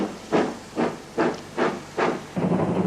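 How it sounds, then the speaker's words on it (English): A South African Railways Class 15 2-8-2 steam locomotive chuffs in a steady rhythm of six strong exhaust beats, loud and close, with hissing steam between the beats and no voices. "This 282 Class 15 locomotive is one of a large and varied class"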